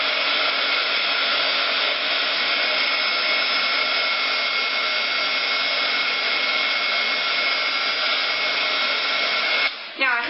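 Embossing heat tool blowing steadily and loudly on a leaf dipped in UTEE embossing enamel, a continuous hot-air whoosh that runs alone for about ten seconds before cutting off near the end.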